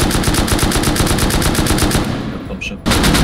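Rapid, loud bursts of AK and M2 automatic gunfire fire at a helicopter in the survival video game Rust, in a sustained rattling stream that drops off briefly before resuming, with no talk over it.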